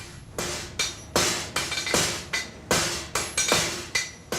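Repeated sharp hammer blows on metal ring out at a blacksmith's forge at an uneven working rhythm, about a dozen strikes, close and clear with no talking.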